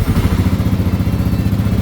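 A stock-exhaust 2022 Kawasaki KLR650 with a 650cc single-cylinder engine idles after a cold start, a steady, rapid, lumpy thumping pulse close by and fairly loud, with no voices.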